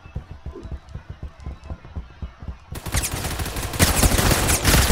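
Video game gunfire, four shots of rapid sharp cracks ringing out amid a run of thumping footsteps, giving way to a loud dense burst of noise that builds and grows louder toward the end.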